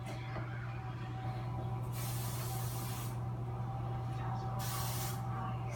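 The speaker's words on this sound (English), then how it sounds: "you want to spray it on the bottom of your 20 by 20, 90 inch, 60 4x4 pan." Cooking spray hisses onto the bottom of a baking pan for brownies in a kitchen, two close bursts of spray over a steady low hum.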